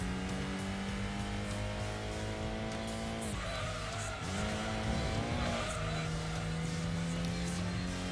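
Datsun 240Z racing in Gran Turismo 2, its engine droning steadily with pitch dropping and climbing through gear changes, plus a brief tire skid, loud and continuous throughout.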